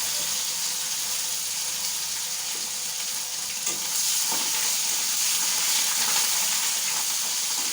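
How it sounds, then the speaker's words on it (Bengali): Prawns and green chillies frying in a pan give a steady, loud sizzle that runs unbroken from start to finish, with a slight swell of crackle partway through. "এখন সেই সাথে দিয়ে দিচ্ছি চিংড়ি মাছ।"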